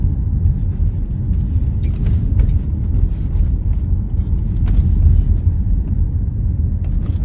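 A car rolling along a road in the UK, a steady low rumble of engine and tyre noise heard from inside, continuous and fairly loud with no talk.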